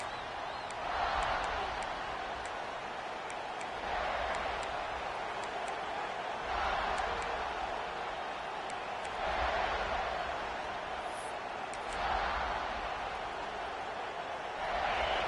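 Stadium crowd noise from a college football video game, USC against Tennessee, a steady broad roar that swells in repeated waves every few seconds, with a commentator talking over it.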